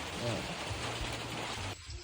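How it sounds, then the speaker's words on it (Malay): Rain pouring down outdoors while clams roast over a fire, a steady dense hiss of falling drops with a low hum underneath, then cutting off abruptly near the end. "Hujan rambah-rambah wak."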